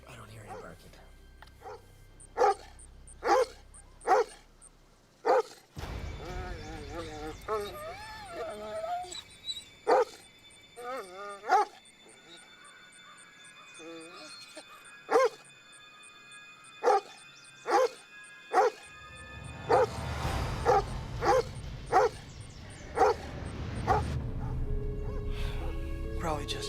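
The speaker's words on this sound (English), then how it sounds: "Jonas never barks like that." A dog named Jonas barks repeatedly in sharp, spaced bursts, some in quick pairs, close and loud, with people talking between and over the barks and a steady low rumble underneath.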